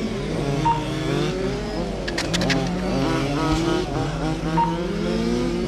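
Large-scale 1:5 RC racing models do tire warm-up laps on a model car club track, producing a continuous layered whine of several small engines rising and falling as they pass, with brief tire chirps in between.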